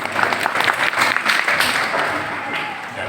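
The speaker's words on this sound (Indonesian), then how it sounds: "Ya, tepuk tangan untuk Pak Putu." A crowd at a dawn prayer gathering in Malang breaks into dense, loud clapping that stays steady and then gradually thins out.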